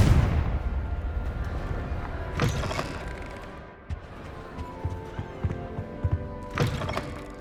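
In Hogwarts Legacy, two Confringo fire-spell blasts land several seconds apart as short, thumping bursts over a quiet ambient background.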